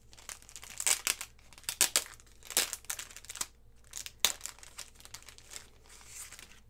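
Memorydex card packaging is crinkled and opened by hand, with soft, irregular rustling and crackling bursts heard close up and fairly quiet, with no talking.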